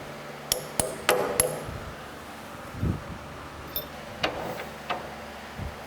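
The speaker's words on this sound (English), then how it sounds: "I'm just going to use a punch here, a little drift punch to try to get that lined up." A small steel drift punch taps a taper pin into a LeBlond lathe quick-change gearbox, giving several sharp metallic taps, a quick run of four then a few spaced strikes, close and clear in a quiet shop.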